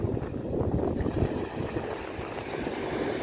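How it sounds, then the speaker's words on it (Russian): Steady, rumbling wind buffeting the microphone on the Black Sea coast in winter at Uchkuevka, Sevastopol, a continuous low roar with no pauses, nobody speaking. "шум в кадре. Это ветер дует."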